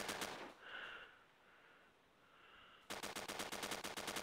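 Rapid automatic gunfire from the mobile shooter game Standoff, a dense burst of evenly spaced shots opening the moment, then a quieter lull before another loud sustained volley near the end.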